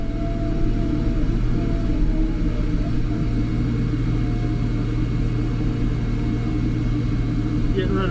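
A Chinese excavator's diesel engine drones steadily and loud throughout as it digs a trench, a constant low rumble with throttle held up, while someone talks over it.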